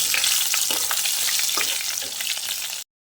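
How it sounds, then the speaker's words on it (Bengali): Steady frying sizzle of potatoes for jackfruit kofta in a hot pan, loud and close, with soft scraping stirs breaking through now and then. "আলুগুলো দিয়ে ভালো করে ভেজে নেব"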